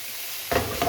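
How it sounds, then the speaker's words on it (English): Food dropped into hot butter in a pan: a sudden soft sizzle and crackle bursting in, close by, after a quiet moment. "I'm going to fry this off in butter"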